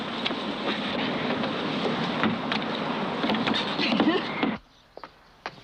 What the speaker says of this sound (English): The engine's turning over